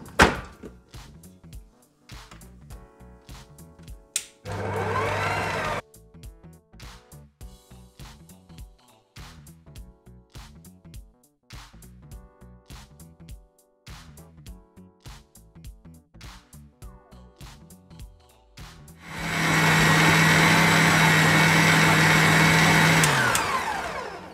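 Electric stand mixer kneading soft burger-bun bread dough, a steady whirring motor with rhythmic thumping of the dough, plus two separate louder bursts of higher-speed mixing, one brief and one longer near the end.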